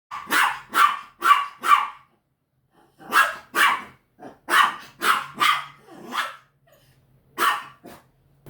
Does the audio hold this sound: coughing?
no